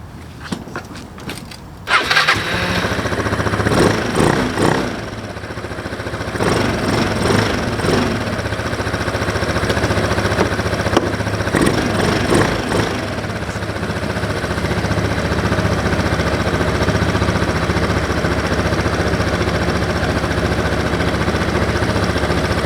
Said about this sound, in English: let's go ahead and give it a start